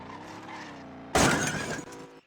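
A car in a street-legal driving video game crashes into an obstacle on a test track, and a sudden loud shattering smash follows a steady engine drone, then trails off quickly.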